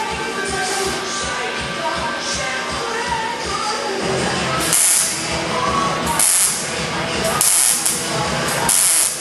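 Welding fills a hole in a 1968 Camaro body without a backer, a loud continuous crackling hiss broken into short bursts with brief pauses, close and alone.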